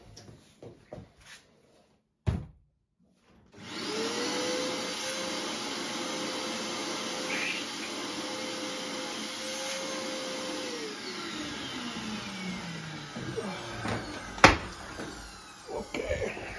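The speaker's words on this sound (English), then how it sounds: "dust removal that you put to the vacuum." A few quiet knocks and a clunk, then a vacuum dust extractor on a tool cutting a hardwood table whirs up and runs steadily at a high pitch, its tone dipping near the end amid small taps.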